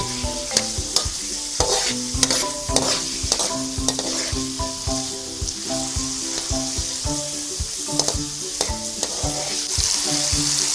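Tomatoes sautéing for ginisang saluyot sizzle steadily in a pan, while repeated sharp clinks of a spoon stirring against the pan punctuate the frying, close and with no voices.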